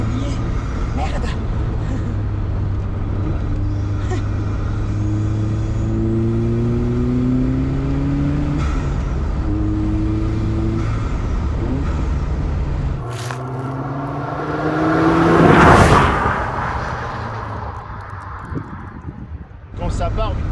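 An Opel Speedster Turbo's engine drones from inside the cabin, rising and falling through gears, then a loud turbo blow-off whoosh bursts out; people talk over the engine noise.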